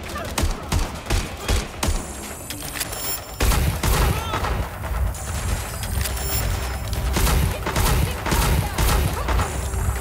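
Gunfire rattles in Watch Dogs, bursts of sharp shots and crashing impacts in quick clusters, continuing loud and chaotic through the stretch amid game noise.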